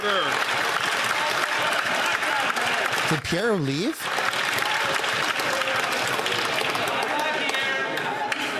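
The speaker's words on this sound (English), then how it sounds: "They're turning around and clapping." Members of parliament in the House of Commons clap loudly and continuously, a dense roar of hands filling the chamber, while people talk over the applause.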